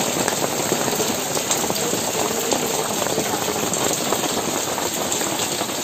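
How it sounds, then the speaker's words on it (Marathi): Rain pours outdoors in the Konkan region near Ratnagiri, a steady dense hiss of falling water and drops on surfaces that fills the whole stretch evenly and fairly loudly, with no talking. "पाऊस बाहेर पडतोय."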